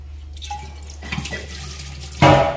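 Running tap water while something is rinsed, a steady hiss of flow with soft splashes and a louder gush of water near the end, over a low background hum.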